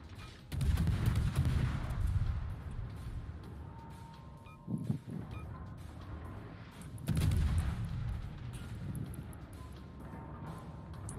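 Heavy booming salvos of naval gunfire in World of Warships, two big rumbling volleys a few seconds apart with a sharper crack between, over a steady background of battle noise.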